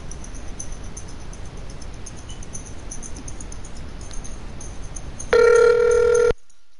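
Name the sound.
telephone ringing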